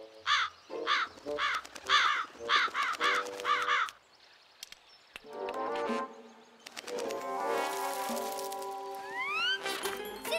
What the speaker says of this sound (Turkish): Size gidi hafacan kargalar sizi.